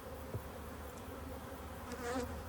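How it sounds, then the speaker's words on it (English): Honey bees swarm and buzz around an open hive with little honey, a steady close hum with individual insects droning past the microphone and a louder surge near the end. "A lot of bees though, they're doing a lot."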